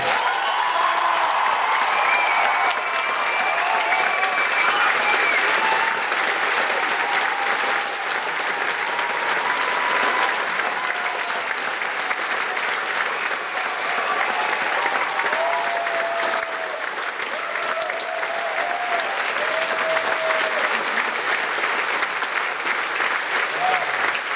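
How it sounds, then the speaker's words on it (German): Sustained audience applause for pianist Max Kretzmer at a school graduating-class variety show, a dense, steady clapping that holds loud for the whole stretch with some cheering mixed in. "Ein riesen Applaus für Max Kretzmer!"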